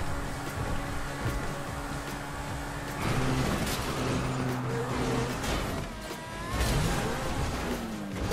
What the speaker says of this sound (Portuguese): Quem que é esse carro que passou aqui, meu?